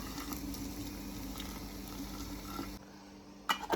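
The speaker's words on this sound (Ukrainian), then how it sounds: "Закипіла в нас водичка. І зараз ми по чуть-чуть наливаємо." Boiling water is poured bit by bit into jars of homemade peach compote, a steady watery hiss and trickle that drops off near the end, followed by a couple of short clinks.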